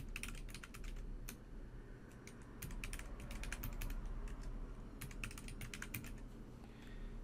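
A password is typed on a computer keyboard in quick, irregular bursts of soft key clicks with short pauses between them, close by and quiet, with no talking.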